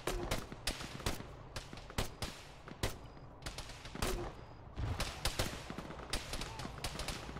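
Rapid gunfire in a military shooter video game, with bursts of sharp shots and automatic fire cracking irregularly at close and mid range across the whole stretch.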